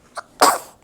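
A single sharp sneeze, a quick faint intake followed by a loud burst that trails off, heard alone and close.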